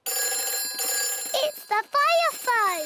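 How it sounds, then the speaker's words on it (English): A cartoon fire station telephone rings in repeated bursts of bright electronic trilling, fairly loud and close, with a voice and other speech breaking in toward the end. "It's the fire phone."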